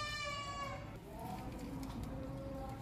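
A hornless one-month-old male goat kid gives a faint, brief bleat with a wavering tone against low background noise.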